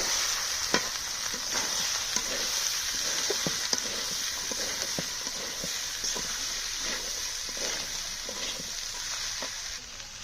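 Chickpeas stirred into sizzling mutton masala for ghugni, a steady frying hiss with repeated spoon scrapes and clicks against the pan throughout.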